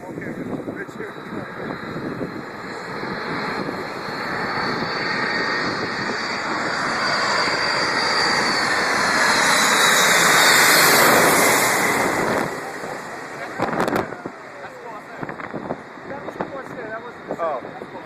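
A Boeing 747 jet comes in to land at St. Martin, its engine roar building steadily to a loud, close peak overhead before fading, with ocean surf washing underneath throughout.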